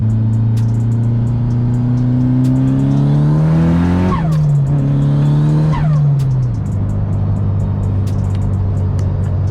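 Mitsubishi Evo 8 running after a crank sensor replacement, loud close engine revving and accelerating through rising pitch sweeps, shifting and dropping back to a steady drone, no talk.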